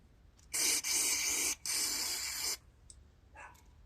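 Aerosol cleaner sprays into a carburetor from an 8 horsepower Coleman generator in three close, hissing bursts of about a second each, followed by a couple of faint short puffs.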